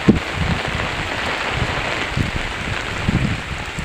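Heavy rain pours over a muddy rural home, a dense continuous hiss of falling water with faint scattered drops and some low wind rumble, no voices.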